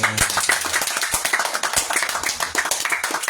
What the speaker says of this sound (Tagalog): Clap offering.